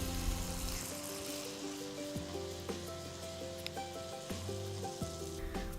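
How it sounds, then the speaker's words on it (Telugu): Boorelu, sweet filled dumplings dipped in batter, fry in hot oil with a soft, continuous bubbling sizzle. Sustained musical tones play over the frying. "పూర్ణం ఉండల్ని తీసుకొని వాటిని పిండిలో అన్ని వైపుల కోట్ అయ్యేట్టు ముంచి వేడి నూనెలో నెమ్మదిగా వేసుకోవాలి"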